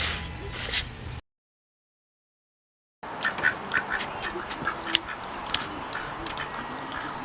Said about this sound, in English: More ducks, Katie.